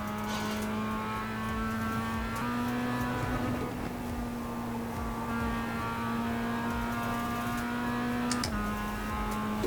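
A race car engine drones in a racing simulator game, holding a steady mid-pitched tone that rises briefly, then drops near the end, loud and continuous with no talk.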